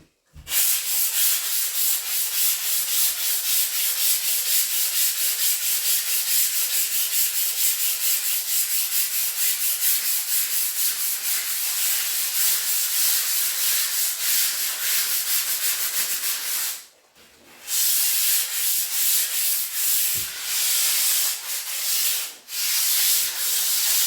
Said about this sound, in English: I will treat you to a little bit of sanding because it's very ASMR-y.